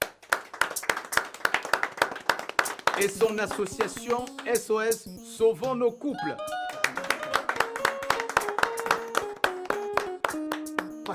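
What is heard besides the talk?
guests clapping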